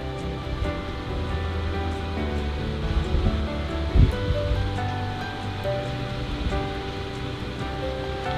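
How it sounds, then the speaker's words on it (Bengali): Black cumin seeds sizzling in hot oil for tempering in a home kitchen, a steady close hissing crackle with a brief louder clatter midway, no speech. "ওই তেলের মধ্যেই কালো জিরে ফোড়ন দিলাম"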